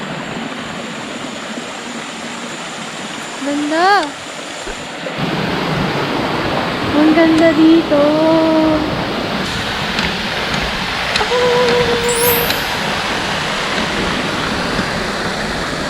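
A cool, deep stream at a resort in Lucban, Quezon flows with a loud, continuous rushing wash that swells after a few seconds, while people's voices exclaim over it.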